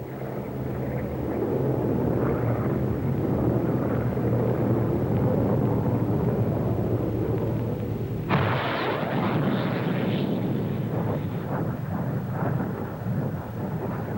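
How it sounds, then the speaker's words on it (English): A Hawker Hunter 66A jet flies aerobatics at an air show, its roar loud and steady, then swelling abruptly into a harsher, brighter blast as it passes close, with no voices. "Bill Bedford, Hawker's chief test pilot, takes up to Hunter 66A."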